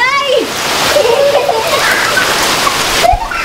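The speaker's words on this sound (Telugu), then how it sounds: "ఒక 1 అవర్ నుంచి అయితే బీభత్సంగా పడుతుంది వర్షం" Heavy rain pouring outside a house during a flooding downpour, a loud splashing, sloshing wash of water near the listener with faint voices mixed in.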